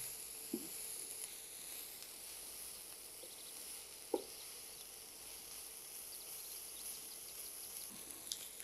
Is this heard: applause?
no